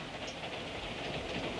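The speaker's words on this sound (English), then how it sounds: "how long do you expect to keep us here, aboard this train, running back and forth, going nowhere?" A train runs steadily on rails, a continuous rumbling roll with faint clatter, even and moderately quiet throughout with no speech.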